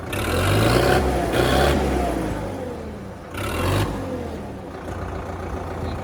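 A Swaraj 735 tractor engine revs in surges, its low throbbing roar rising and dipping repeatedly, close and fairly loud.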